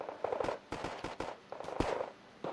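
Repeated sharp blasts from artillery strikes land in a quick irregular cluster in the Wargame Red Dragon video game, several loud booms in close succession with no talk over them.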